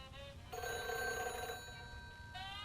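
A telephone rings inside a WWII air war simulator game, one steady ringing burst lasting about a second before it breaks off and briefly starts again, clear and fairly close with no talk over it.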